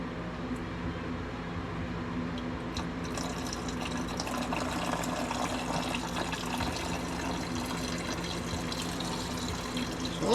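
Coolant draining out of the 2.9L V6 engine of a 1991 Ford Ranger, a faint steady trickling and gurgling liquid flow continuing throughout.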